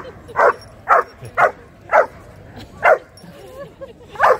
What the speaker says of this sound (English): That's what he's barking at.